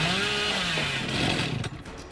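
A chainsaw roars loud and steady in the horror game Dead by Daylight, a continuous revving buzz that sputters and fades toward the end, with no talk.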